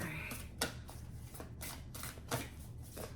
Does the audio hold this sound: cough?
no